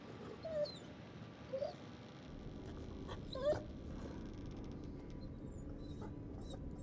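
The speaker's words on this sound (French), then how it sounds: "Pourquoi le toutou il piaille?" A dog whimpers and yips faintly in the video game The Devil in Me, in several short, high whines spread across a quiet, hissy background.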